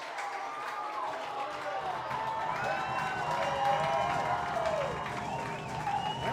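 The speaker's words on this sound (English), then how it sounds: "You can hear the crowd in the background" A crowd at a high school football game between Viroqua and Brookwood cheers and murmurs in the distance, a steady background roar under continuous talk.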